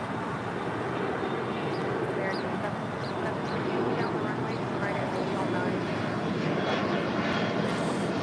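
Airliners at LAX airport give a steady broad roar of jet engines from a taxiing aircraft, loud and continuous, with faint chirping and quacking-like sounds over it and no clear talking.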